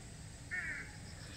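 A single crow caw rings out clearly, brief and mid-distance, against a quiet background hiss, in a forest native plant garden at Yumyeongsan, South Korea, near dogwood trees.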